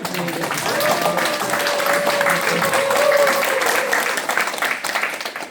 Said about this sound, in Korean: 우리 김영식 소장님 한 박수